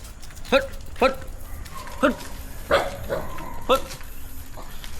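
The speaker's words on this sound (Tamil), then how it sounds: "நாய் காலைல சீக்கிரம் போனால் இது ஒரு தொந்தரவு வேற இருக்கும்." A dog on the road barks at cyclists in about six sharp, evenly spaced barks from close range, while a person talks over them.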